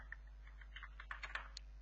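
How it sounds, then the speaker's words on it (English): Keystrokes on a computer keyboard, a quiet run of light, irregular clicks with a few firmer taps toward the end, close by with no talking. "here I'm just typing"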